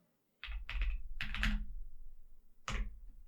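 Keys clack on a computer keyboard as a short command is typed into a terminal, a few quick close clusters of taps after a moment of silence.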